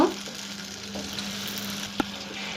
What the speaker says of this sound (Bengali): এই তেলে বড়ইগুলো হালকা একটু ভেজে নেব